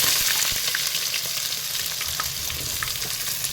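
Onions sautéing in a hot pan as the first step of a mushroom roast, a steady close sizzle with small crackles and pops throughout, no voices.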